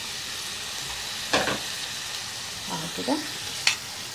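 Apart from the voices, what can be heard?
onion, tomato, olives and peppers frying in hot oil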